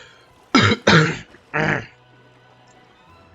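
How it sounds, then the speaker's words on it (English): A person coughs and clears their throat, three loud, rough bursts in quick succession near the microphone, followed by quiet room background. "Really sorry about the coughing."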